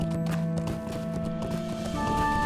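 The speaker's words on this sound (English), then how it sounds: "the clippity-clop of my horse's hooves" Horse hooves clip-clop in the RIFT MMORPG video game, a steady trotting rhythm of hoofbeats over sustained background music, moderately loud with no talk.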